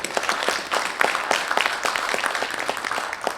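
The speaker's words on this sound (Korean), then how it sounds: "박수 모시겠습니다." Steady, dense applause fills the hall at the 80th anniversary commemoration ceremony of the Korean founding program, with many hands clapping together at moderate volume.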